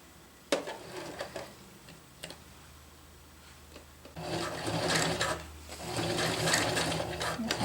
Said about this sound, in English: I'm just going to stitch it so that this end is sealed